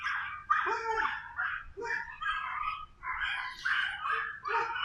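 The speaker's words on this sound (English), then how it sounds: "Neighbor dogs are going insane, apparently." Several dogs bark and yip excitedly in rapid, overlapping bursts, fairly close and continuous throughout, with occasional higher whimpering notes mixed in.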